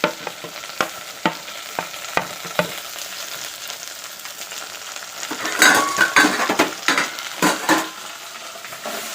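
Tomato sizzles and crackles in hot oil for okra tamarind soup, a steady close frying hiss punctuated by stirring clinks and scrapes that grow busier partway through.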